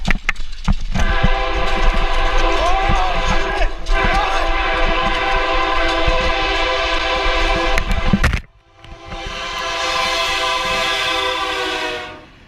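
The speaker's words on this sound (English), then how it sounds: "the blaring sound of the horn could be heard from directly behind them" A train horn blares loudly in a tunnel over a roaring, rumbling train, cutting off abruptly before the echoing rush of the passing cars continues.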